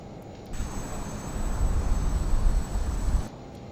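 A Learjet 35A jet engine shutting down in Microsoft Flight Simulator, a steady broadband roar that swells in the middle and then cuts off, with a high whine running throughout and no voices.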